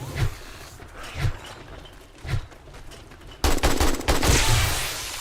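Grenades going off in a video game, a series of heavy booms roughly a second apart, then a louder, denser burst of rapid blasts and rattling.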